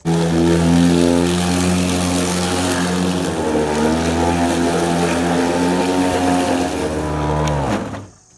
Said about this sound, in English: I'm gonna try running this mower a little slower.